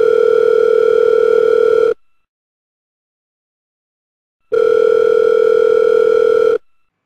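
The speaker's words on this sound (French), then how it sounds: "Faut que je passe un coup de fil au marquis de Florian" A telephone dial tone sounds in two steady bursts of about two seconds each, separated by a few seconds of silence, loud and alone while a call is being placed.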